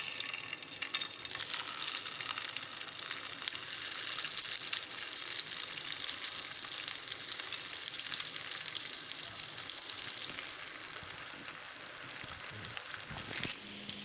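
Leftover rice cutlet patties sizzle and fry in oil in a pan, a steady close hiss of frying that holds throughout with no talking.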